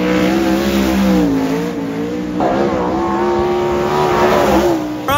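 Sprint cars run hot laps around a dirt speedway in Toowoomba, their engines roaring loud and continuous, with rising revs and layered engine notes as several cars pass close by.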